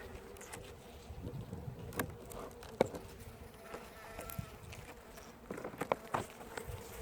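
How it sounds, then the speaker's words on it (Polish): Bees buzz inside an opened old beehive, a faint, steady hum with scattered individual passes and soft clicks and knocks from handling, no voices. "widzę, że jest dużo pszczoły"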